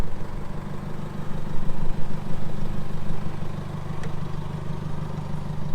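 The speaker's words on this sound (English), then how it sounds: "I mounted a new air compressor in here." A newly mounted air compressor in a camper trailer filling tyres at a beachside campsite, a loud, steady, chugging motor drone with rhythmic pulsing, close by and uninterrupted.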